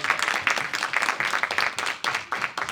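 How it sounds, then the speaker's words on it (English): A chamber audience gives a round of applause for its speakers, a brisk, fairly faint patter of many hands clapping continuously for a few seconds. "let's give a round of applause to all of our speakers"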